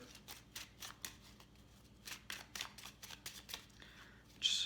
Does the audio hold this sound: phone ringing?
no